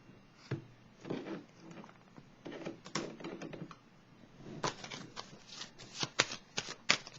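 Tarot cards are shuffled by hand close up, a run of quick riffling and flicking bursts with brief pauses between, quiet and without talk.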